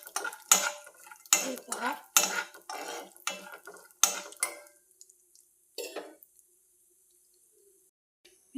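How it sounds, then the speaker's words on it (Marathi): Almonds frying in a pan and stirred with a metal spoon, a series of sharp scraping clinks in an irregular rhythm that thin out toward the end, close and fairly quiet, with a brief spoken remark. "गोल्डन कलर येईपर्यंत बदाम फ्राय करून घेतलेला आहे।"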